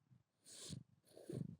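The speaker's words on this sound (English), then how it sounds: "You can hear him purring." Soft, low rumbling purr from a nearby cat, rising and falling in two slow breaths with brief pauses between.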